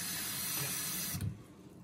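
Water pours into a pot holding apple and carrots in a steady, close hissing stream that stops abruptly after about a second, leaving quiet behind.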